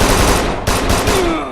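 Rapid automatic gunfire from the shooter game Kane and Lynch 2: Dog Days crackles loud and close in a dense burst, briefly broken then resuming.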